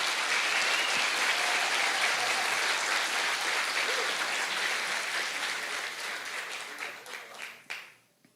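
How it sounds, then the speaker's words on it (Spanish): A church congregation applauds together in a dense, steady burst of clapping that fills the room, then thins into scattered claps and dies away near the end. "Dele fuerte ese aplauso al Señor,"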